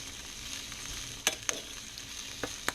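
Arugula cooks in a pan with a quiet, steady sizzle, broken by a few sharp clicks and taps of a utensil against the pan. No talking.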